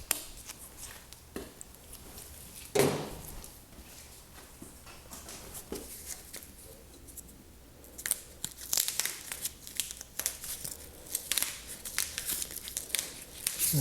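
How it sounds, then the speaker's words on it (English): Tape is cut off a bike's internal cable cover with faint snips, tearing and crinkling up close, scattered irregularly over a quiet background and growing busier toward the end. "we should be able to just reuse this tape here. Just cut it off here."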